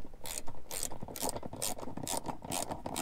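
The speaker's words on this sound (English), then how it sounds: "And then I'm going to go ahead and re-tighten that nut." Ratchet clicking as a nut is re-tightened on a 67 Designs phone mount in a Jeep JK, coming in rapid close bursts of pawl clicks with short pauses, and no talking.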